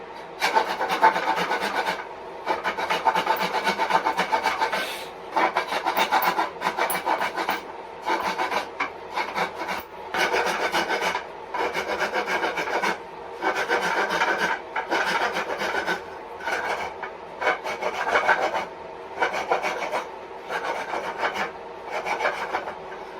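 A rasp files the wooden bore of a jinashi nobekan flute in steady back-and-forth strokes, close and loud, with brief pauses between runs of rough scraping.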